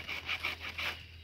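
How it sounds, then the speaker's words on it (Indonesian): A hand saw cuts partway through a branch being prepared for air-layering grafting, with a steady rasping back-and-forth rhythm of about five strokes, close and moderately quiet over a low hum. "Kita gergaji dulu, ya. Gergaji setengah."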